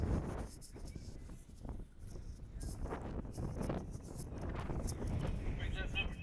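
Wind buffeting a microphone at an outdoor baseball game, producing steady low rumbling gusts and roar throughout, with faint voices in the background.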